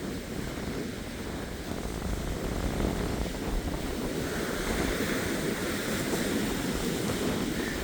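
Wind and surf on a Florida beach at night under a full moon, steady roaring waves and gusty wind buffeting the microphone, a continuous broadband rush with no voices.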